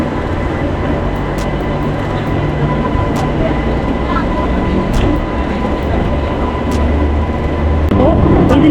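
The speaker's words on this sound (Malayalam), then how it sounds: "നമ്മുടെ ട്രെയിൻ കറക്റ്റ് 8:05 ആയപ്പോൾ ഡിപ്പാർച്ചർ ചെയ്തു." The Puducherry–Villupuram MEMU train runs after leaving the station, heard as a loud, continuous rumble of wheels and carriages with small clicks and knocks throughout.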